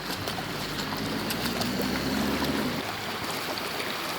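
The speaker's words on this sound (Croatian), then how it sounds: "ja mislim da je ovdje ovaj potok, ovo se sad sve vam izljeva" Floodwater from an overflowing stream in Bosnia rushes in a steady, dense wash of noise, close and continuous, with no voices.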